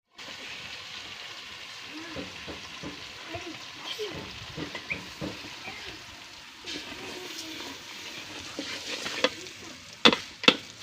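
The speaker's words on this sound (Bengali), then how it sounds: "কলার চালগুলি এখন একটু ভালোভাবে ভেজে নিব" Banana pieces frying on a clay stove with steady sizzling and stirring scrapes, and a few sharper clatters near the end; a faint voice shows up in the background.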